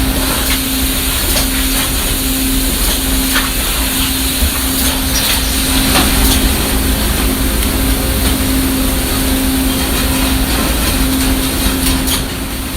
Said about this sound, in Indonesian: Ikan dipotong menjadi filet menggunakan mesin filet otomatis.